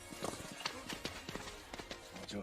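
Horses gallop with riders on horseback in a kung fu story, their rhythmic hoofbeats fairly faint and mixed under a soft background.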